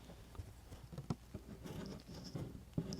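Soft, faint scratchy patter as a new cross-stitch needle passes through fabric, recorded by a microphone on the fabric surface, quieter light rustles and ticks.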